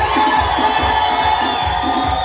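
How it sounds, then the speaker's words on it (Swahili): A church congregation cheering and clapping loudly in praise, dense overlapping shouts and ululating voices over rhythmic handclaps, sustained and close throughout. "kama umebarikiwa piga shangwe na piga"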